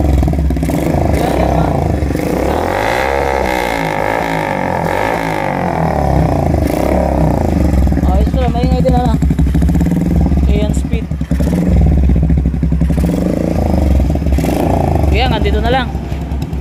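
A Bajaj motorcycle with an aftermarket exhaust revs loudly up and down during a sound check, with throaty swells and a brief dip, while people talk nearby.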